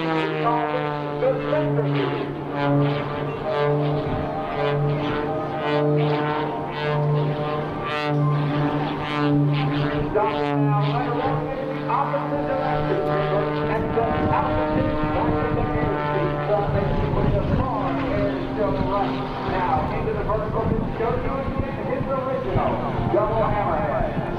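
Sean Tucker's 400-horsepower stunt plane at the 2002 AirPower Over Hampton Roads airshow, heard as a steady droning propeller engine with shifting pitch as it climbs and maneuvers, under continuous announcer commentary.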